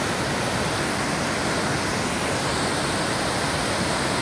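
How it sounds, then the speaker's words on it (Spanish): Velo de Novias waterfall at El Chiflón in Chiapas pours in a constant, loud broadband rush, close and unbroken, with its spray in the air and nobody speaking over it. "Y esto es la cascada Velo de Novias,"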